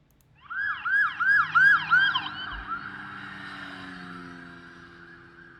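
A loud emergency siren rises and falls in quick repeated wails, then settles into a long, steady tone that slowly fades.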